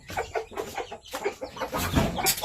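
Japanese Shamo chickens and chicks on a farm, with several clucks and peeps in quick succession over a busy, continuous background of fowl calls, moderately close.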